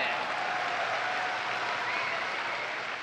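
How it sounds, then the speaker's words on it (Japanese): Steady, loud crowd applause fills a packed Kagoshima Arena during an All Japan pro wrestling six-man tag match, sustained without break throughout. "やんやの喝采であります鹿児島アリーナ"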